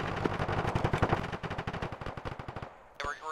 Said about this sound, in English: We're getting shot from two directions.